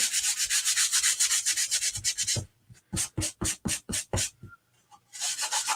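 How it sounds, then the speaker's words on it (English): Hand sanding on a wooden sign surface: long continuous rasping strokes, then a run of short rhythmic back-and-forth scrubs with a brief pause, before steady sanding resumes. "So I'm just going to gently sand the top side."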